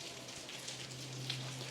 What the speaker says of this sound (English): the rain is in full effect behind me